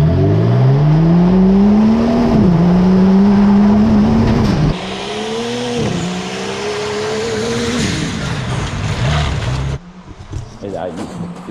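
A BMW V12 bi-turbo front-wheel-drive car accelerates hard, loud and close, its engine note climbing through several gear changes with rough, roaring harmonics, then cutting off abruptly near the end.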